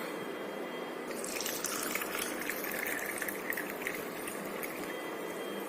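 Water infused with clove, nutmeg and edible camphor runs through a filter into a vessel holding tulsi leaves, as a devotional offering. It makes a steady, close, hissing trickle that holds throughout with no talking.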